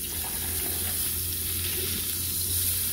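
Even, close sizzle of cheese frying in a pan, a steady hiss with a low hum underneath, no talking.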